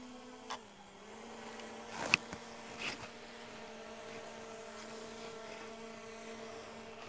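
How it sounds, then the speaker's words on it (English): A DJI Mini 3 Pro drone flies overhead while tracking a person, giving a steady, fairly faint buzzing propeller hum that lasts throughout, with a few brief knocks and rustles partway through. "I'm being tracked by the drone."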